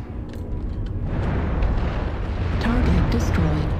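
Rumbling missile explosions in the mech combat game MechWarrior Online, a sustained low boom building in intensity with scattered bursts, under radio-like chatter.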